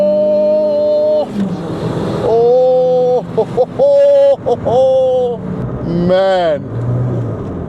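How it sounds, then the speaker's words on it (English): A turbocharged 200+ HP Maruti Baleno custom build revs hard and pulls through the gears around 4000 RPM, engine loud and close with brief dips between rising pulls and a whoosh of wind, someone talking briefly over it. "4000 RPM, hitting the turbo,"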